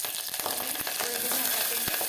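Cumin, mustard seeds and curry leaves crackle in hot oil, a dense close sizzle with scattered pops and a couple of sharp taps from a spoon.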